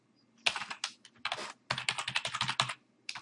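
Fast keystrokes on a computer keyboard while entering a password at a Git prompt, clicking in close, bright bursts with a brief pause midway, no voice.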